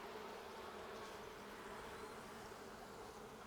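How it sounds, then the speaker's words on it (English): Bees buzz around an opened beehive in a faint, steady, continuous drone with no voices. "there's a lot of bees still down in here"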